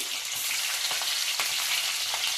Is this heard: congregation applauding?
no